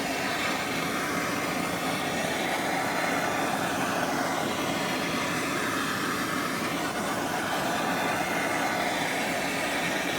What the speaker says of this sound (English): I'm going to heat it with the torch and get back even further on the metal